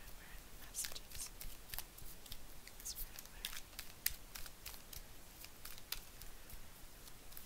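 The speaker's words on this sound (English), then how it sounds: "I've been shuffling the cards for quite a while" Soft, rapid riffling and flicking of tarot cards being shuffled, repeated in uneven bursts, close and quiet with a light papery texture throughout.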